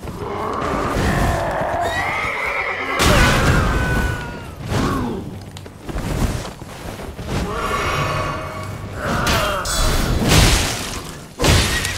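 A horse neighs and whinnies repeatedly in the video game Elden Ring, loud and close, with heavy thuds, crashes and hoof clatter mixed among the calls.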